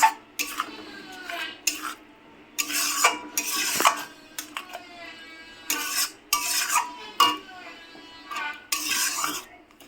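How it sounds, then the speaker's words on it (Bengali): A utensil scrapes and clatters against a pan while salt is mixed into spices for a duck egg curry, in repeated loud stirring bursts with short pauses between them. "এবার মশলার সঙ্গে মিশিয়ে নেব"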